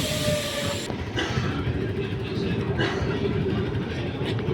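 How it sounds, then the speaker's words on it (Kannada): A local passenger train pulling out of Venkatagiri Kote railway station rumbles steadily from on board, with brief clanks and rattles of the carriages throughout. "ಈಗ ವೆಂಕಟಗಿರಿ ಕೋಟೆ ರೈಲ್ವೆ ಸ್ಟೇಷನ್ನು ಬಿಡ್ತಾ ಇದೆ"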